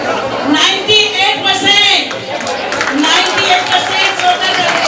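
Loud, dense clapping from an audience at a community women's group event honouring medal winners, rolling on steadily with chatter and a nearby voice talking over it.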